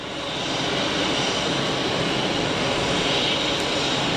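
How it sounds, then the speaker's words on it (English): An EasyJet Airbus A320ceo jet rolls for departure at an airport, its engines roaring as a steady, broad, loud rumble with no break. "A320 CEO of EasyJet out to Lisbon,"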